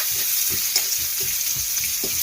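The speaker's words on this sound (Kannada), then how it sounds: "ಇವಾಗ ನಾನು ಇದಕ್ಕೆ ಈರುಳ್ಳಿನ ಹಾಕ್ತಾ ಇದ್ದೀನಿ. ಹಂಗೆ ಒಂದು ಸ್ವಲ್ಪ ಫ್ರೈ ಮಾಡ್ಕೊಳ್ಳಿ ಈರುಳ್ಳಿನ" Onions frying with curry leaves in a hot pan for a greens palya, a steady bright sizzle with soft stirring scrapes recurring every half second or so, close and continuous, no voices.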